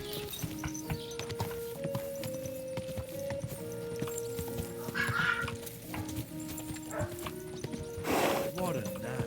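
Horse hooves clip-clop in a Minecraft-style video game as a horse spawns, with a brief whinny-like call near the end, heard under ongoing talk and game music.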